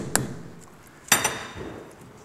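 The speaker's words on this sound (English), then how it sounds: "Gently tap it into position." Grease cap gently tapped into place on a Triumph Spitfire front brake hub: a sharp metallic knock, then a quick double tap about a second later, close by and otherwise quiet.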